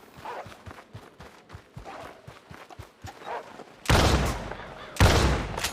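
Gunfire in a shooting video game, starting as a steady run of soft rapid pops and then breaking into two loud, harsh blasts near the end.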